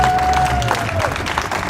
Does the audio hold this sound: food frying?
no